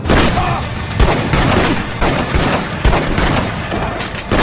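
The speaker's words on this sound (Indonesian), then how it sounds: "Emosinya pun semakin memuncak dan tembak-tembakan pun tidak terelakkan" Dense, loud film gunfire from a robbery shootout crackles and booms in rapid overlapping bursts, a continuous barrage of shots with heavy impacts.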